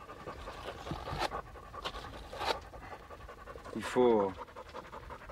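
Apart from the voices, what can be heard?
hunting dog panting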